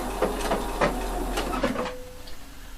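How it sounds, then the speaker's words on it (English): A sewing machine stitches along a jacket corner finished with ribbon, giving a few quick rhythmic mechanical bursts over a low steady hum before it stops and falls nearly quiet. "now I stitch in the same line as before"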